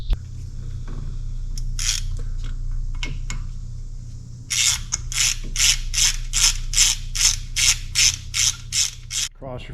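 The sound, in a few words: spark plug being put back into engine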